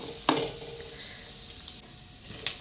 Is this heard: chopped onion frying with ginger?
yes